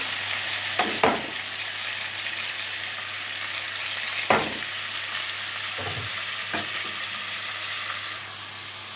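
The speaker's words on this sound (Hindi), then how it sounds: "गार्लिक और जिंजर पेस्ट को हमने ऐड कर दिया है, और अच्छी तरह से इसको भी सौते करेंगे।" Garlic and ginger paste sautéed with golden-brown onions in a pan for chicken and potato pulao gives a steady close sizzle, with a few brief stirring scrapes of the spoon.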